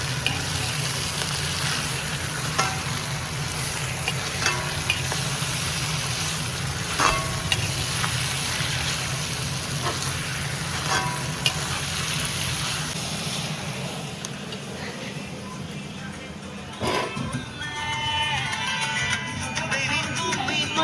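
Meat fries in a pan while being stirred, with a steady broad sizzle and occasional clanks of the spatula. A sharper scrape lands near the end. No one talks.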